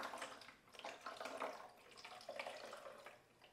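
Water is poured into the reservoir of a Gevi Household 2.0 nugget ice maker, making a soft, continuous trickle and splash. The sound is faint and steady for a few seconds, with no voices.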